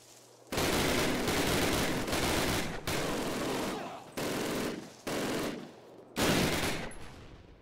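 MG42 machine gun fire in the Call of Duty video game, several long, loud, rapid bursts separated by brief pauses, close and dominant.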